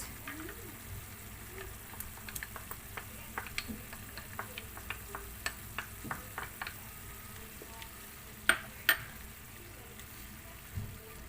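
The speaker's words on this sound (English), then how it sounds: "So now it's boiling, so we can add our tomato paste." Sweet and sour escabeche sauce for tilapia simmering in a pan, a faint steady bubbling hiss dotted with soft pops and crackles, with a couple of louder clicks near the end and no talking.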